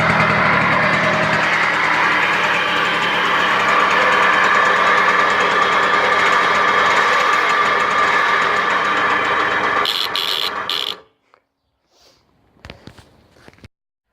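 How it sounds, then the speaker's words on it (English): Moped engine running at a steady, loud buzzing idle for about ten seconds, then cut off, followed by a few faint clicks and handling noises. "I'll quickly wheel it outside and start her up and see whether the lights work."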